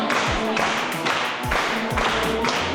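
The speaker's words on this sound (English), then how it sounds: "You can hear the clapping." A hyped crowd gathered for a team-building haircutting event claps in a quick, rhythmic beat of sharp slaps. Faint voices mix in underneath.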